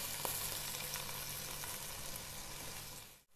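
Onion frying in oil and butter with a little turmeric for a chicken soup, a steady close crackling sizzle that stays even throughout before a brief dip and pop at the very end.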